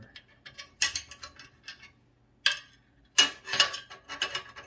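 A ratchet loosens a nut on the building of a Stern Godzilla Premium pinball machine, close and clear, with bursts of rapid clicking and ratcheting separated by short pauses.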